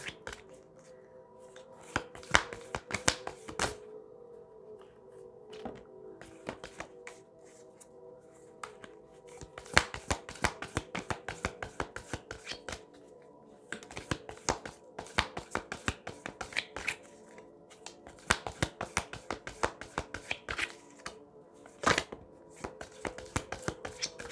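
Tarot cards are shuffled by hand during a reading, a long run of crisp slaps and riffling clicks in irregular bursts with short quiet gaps.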